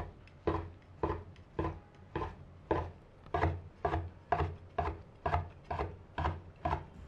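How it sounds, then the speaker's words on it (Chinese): Rhythmic knife strokes cutting rolled, washed tofu skin into shreds on a cutting board, about fourteen even chops in steady succession, close and clear with no talking. "把豆腐皮卷起来， 全部切成丝"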